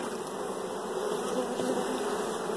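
Dense, steady buzzing of many bees, close and continuous, a droning hum with no talking.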